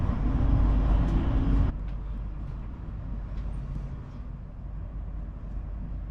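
An InterCity 225 train speeds toward Peterborough, a loud rolling rumble for the first seconds that drops abruptly to a quieter steady interior drone with faint clicks of wheels over track.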